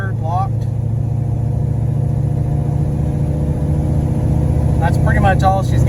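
A stock Ford 7.3 Power Stroke diesel pickup pulls a trailer and accelerates hard. The loud, steady engine drone fills the whole clip, and someone speaks briefly near the start and again near the end.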